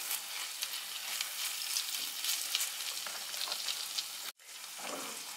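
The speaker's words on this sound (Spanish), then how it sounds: "Echaré ahora la carne picada, que ya la tengo sofrida." Minced meat sautés and is stirred in a pan for Peruvian beef empanada filling, a close, steady hiss and crackle with a brief cut before the sizzle resumes.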